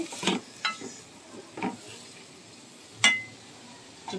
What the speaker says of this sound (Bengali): এবার ভালো করে নেড়ে